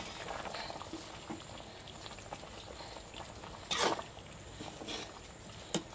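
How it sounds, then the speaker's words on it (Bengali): Fish curry simmers at a rolling boil in a pot, giving soft, steady bubbling with a couple of brief louder pops, faint and without talk. "আমার তরকারি বলক উঠছে।"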